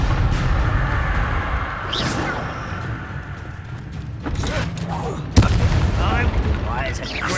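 Confringo spell blasting in Hogwarts Legacy, a dense booming burst with one sharp impact midway, set in a busy stretch of game noise.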